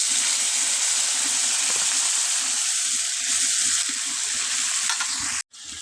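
Spiced pangas fish frying in hot oil with cumin seeds and bay leaves, a loud, close, continuous sizzle with scraping and stirring from a spatula, heard alone and briefly cutting out near the end.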